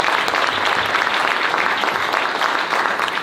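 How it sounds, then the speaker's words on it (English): A summit panel audience gives a loud, continuous burst of clapping that fills the room throughout. "So round of applause to all of y'all."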